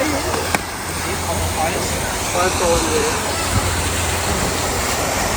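A waterfall-like fountain in Paris rushes steadily on a hot day, a continuous wash of falling water mixed with crowd babble and nearby voices.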